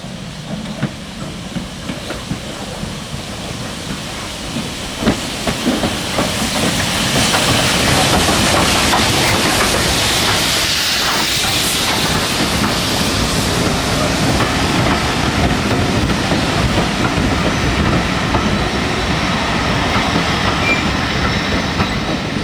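A steam tank locomotive train, including LB&SCR Billington Class E4 tank, rolls past close by on the Bluebell Railway, loud and continuous, with rumbling wheels, rhythmic rail clatter, hissing and occasional squeals.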